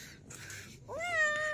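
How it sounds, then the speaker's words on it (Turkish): Small kitten meowing inside the Yalan Dünya cave in Gazipaşa, a brief rustle followed by one clear rising meow, close and fairly soft. "Bugün kedimizle gezeceğiz. Yavru kediyle."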